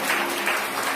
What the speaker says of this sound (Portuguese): Vamos aplaudir a palavra de Deus, gente?